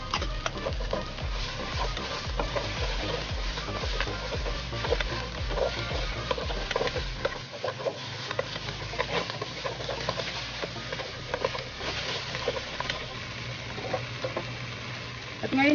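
Onions fry alongside browned pork pata for humba, a dense continuous sizzle with irregular crackling pops and stirring clatter, close and fairly loud throughout.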